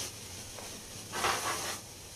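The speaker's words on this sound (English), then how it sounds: "let's hit it again with some water" Water splashed onto a hot Blackstone griddle during cleaning bursts into steam with a soft hiss that swells for about half a second before fading back to quiet.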